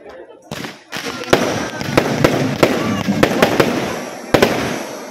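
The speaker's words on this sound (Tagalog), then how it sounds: "let us all look up to the sky as we light it up with fireworks display." A fireworks display outside Libis Auditorium in Cabra, Lubang, Occidental Mindoro, with repeated sharp bangs and crackling bursts at irregular intervals over a continuous rumble, and people talking throughout.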